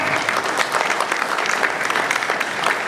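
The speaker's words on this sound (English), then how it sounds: "Let's give David Maron a round of applause." An audience at a city State of the City event applauds steadily, a dense, even wash of clapping from a large crowd in a hall, sustained throughout without talk.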